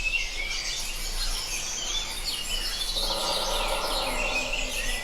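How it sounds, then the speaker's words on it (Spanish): Birdsong and chirping carry through a forest soundscape with finches and other birds, over a steady wash of wind and water, the layered calls sounding at varied distances without any talk. "le añadimos otras voces, pinzón, sonido de la madera, nuevamente el viento, todo lo difumina, el agua, otras aves."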